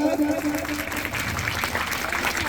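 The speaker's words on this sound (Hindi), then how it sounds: "प्लीज आप लोग जोरदार तालियों के साथ में एक बार जोरदार ताली हो जाए।" Applause from an audience at a panchayat gathering in India, a continuous patter of clapping under some voices, moderately loud and steady throughout.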